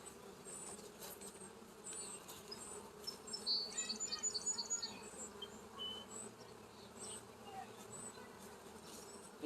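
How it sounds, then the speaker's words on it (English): Honey bees buzz around an open hive during an inspection, a close, continuous drone of many wings with individual bees flaring louder as they pass; faint bird chirps sit in the background and nobody speaks. "that is jam-packed full of bees"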